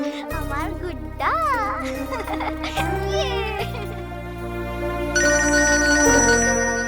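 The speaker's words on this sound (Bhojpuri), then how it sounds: "आभा के फोन आवल बाटे।" An incoming call on a mobile phone plays a loud, melodic ringtone with sliding, warbling tones over a steady electronic backing, heard clearly and close throughout.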